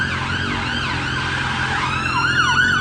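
Wailing emergency vehicle sirens sweep up and down over steady traffic rumble, moderately loud, with a second siren joining partway through.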